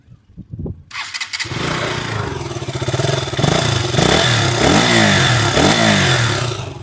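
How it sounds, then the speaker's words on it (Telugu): A sports motorcycle engine cranks a few times, then fires up and settles into a loud, throbbing idle with rhythmic pulses and slight revs, close by. "మనం అయితే బైక్ ఒకసారి స్టార్ట్ చేసి బీట్ అయితే ఒకసారి చూద్దాము ఎలా వస్తుందో బీటింగ్."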